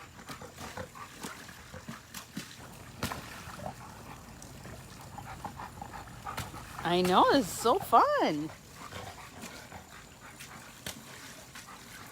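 A dog plays at a children's splash pad, giving a brief burst of excited vocal yelps and growl-like sounds in the middle, amid a steady background of trickling water, with a person talking over it.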